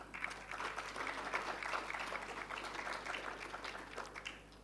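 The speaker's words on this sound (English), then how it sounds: "Would you please give them a big hand of applause?" An audience at an International Customs Day ceremony applauds the program's champions, a soft, sustained round of clapping over a low electrical hum, fading slightly at the close.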